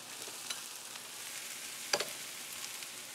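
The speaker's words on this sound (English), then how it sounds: "Now you want to saute it, you know, a couple of times to get a little bit of the fat inside the potato itself." Potatoes sautéing in melting butter in a pan, a soft continuous sizzle with light crackles and a sharper pop or clink midway, close and fairly quiet with no talk.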